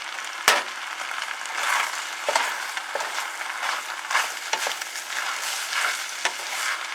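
Chicken fried rice with sesame oil frying in a pan, a steady sizzle broken by repeated scraping stirs of the utensil, close and clear with no talk.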